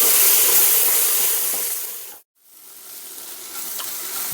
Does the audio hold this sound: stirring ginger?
yes